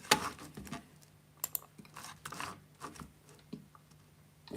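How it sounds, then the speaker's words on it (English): Typing on a computer keyboard during a workshop build session, irregular bursts of quiet close keystrokes and clicks, alone without voices. "Keyboard."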